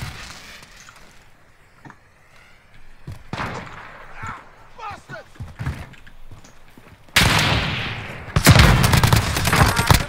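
Gunfire in Call of Duty Modern Warfare: scattered game sounds and speech-like chatter give way to dense, loud bursts of automatic fire and booming shots that build toward the end.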